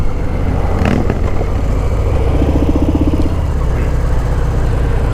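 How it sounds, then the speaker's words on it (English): A 2019 Harley-Davidson FXDR motorcycle accelerates with a loud, rushing engine roar. A brief pulsing surge rises midway as the throttle opens, then continues as steady road and wind noise. "you just twist that throttle and this thing just moves"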